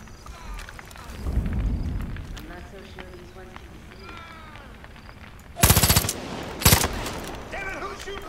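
Gunfire in the video game Far Cry 5: two loud, sharp bursts of rapid shots near the end, over busy game background sound, with a voice talking.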